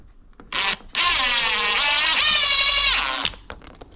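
A power drill spins up in a short burst, then runs steadily for about two seconds at high speed drilling into a window sill before winding down.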